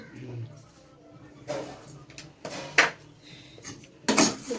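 A prawn and dry fish curry is stirred in a cooking pot, with scattered metal scrapes and clanks of a spoon against the pot, a few sharp knocks, and a voice speaking briefly in the background.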